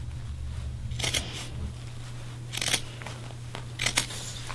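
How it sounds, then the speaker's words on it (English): Scissors snipping through dried, glued rug hooking backing on the back side, a few short crisp cuts in bursts over a steady low hum, close and fairly quiet. "I'm going to cut this right along the glue, right along the edge,"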